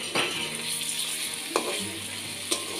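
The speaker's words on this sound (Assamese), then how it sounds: "এই ৰেচিপিটোত অকণমান ফ্ৰাই কৰি দিলে ভাল লাগে সেইকাৰণে মই ফ্ৰাই কৰি দিম" Paneer fries in oil with salt and turmeric in a hot kadai, giving a steady soft sizzle broken by a few sharp clinks of stirring, close and fairly quiet.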